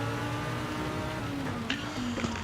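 A Toyota Supra race car accelerates in a sim racing league event, its steady engine tone climbing in pitch with a brief shift change near the end, loud and continuous with no talk.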